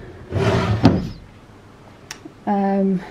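A hotel room drawer holding a hairdryer slides open with a short rolling scrape and a soft thunk, followed moments later by a brief hum, in a quiet room.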